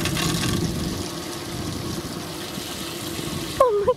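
Clean water pouring into a fishing boat's livewell, a steady close gurgling rush that continues throughout, with a brief squeaky sound near the end.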